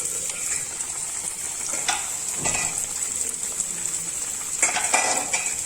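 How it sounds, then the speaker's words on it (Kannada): Onion sizzles steadily in hot oil for a tempering alongside cooking shellfish, a close, continuous frying hiss broken by a few light scrapes and clinks of a spoon against the pan. "ಗೋಲ್ಡನ್ ಬ್ರೌನ್ ಆಗೋವರೆಗೂ ಚೆನ್ನಾಗಿ ಹುರ್ಕೊಳ್ಳೋಣ"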